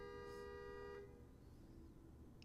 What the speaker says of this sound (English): need to stop honking